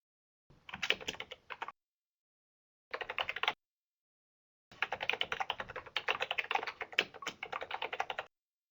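Fingers type on a computer keyboard in three separate bursts, a short one, a brief one, then a longer run of rapid close key clicks in a quiet room.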